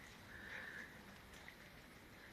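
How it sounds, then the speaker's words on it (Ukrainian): Steady rain pours down in a soft, continuous hiss, fairly faint and even throughout, with no voices. "Бачите, поливає від душі."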